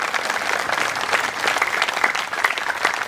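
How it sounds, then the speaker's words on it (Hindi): Loud, sustained applause from the audience at a cultural festival program, a dense, even roar of many hands clapping that holds steady for the whole stretch without speech. "जोरदार तालियां। अभी ताली रुकनी नहीं चाहिए।"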